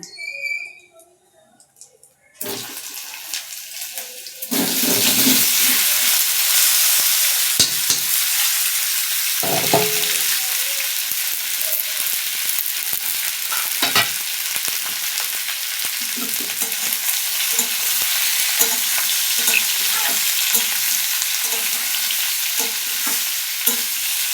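Boiled potato and papaya sautéed and stirred in a pan, opening quietly before a loud sizzle takes over at about five seconds and continues steadily with repeated stirring scrapes and clatters, close up.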